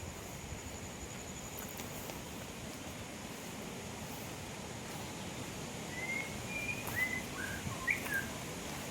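Faint, scattered bird calls rise late over a soft, steady outdoor hiss in dense forest, distant and sparse.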